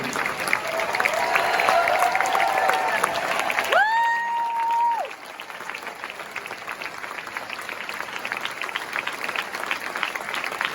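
Audience applause and cheering at a film Q&A as a director returns to the stage, dense clapping for about four seconds broken by a sustained whistle or tonal sound, then quieter scattered clapping continuing to the end.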